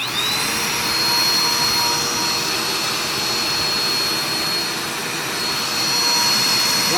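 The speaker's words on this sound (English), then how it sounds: "this is my Dirt Devil vacuum" A Dirt Devil vacuum cleaner runs steadily at a cabin, powered from a portable power station, giving a loud, even motor whine and airflow roar that holds constant throughout with no voices.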